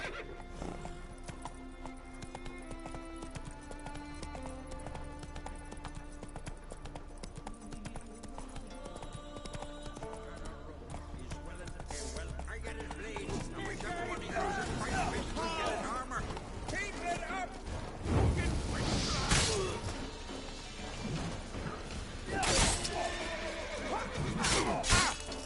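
Roach, the horse in The Witcher 3, galloping steadily with loud repeated hoofbeats, then a neigh rising near the end amid game music and effects, with someone talking over it.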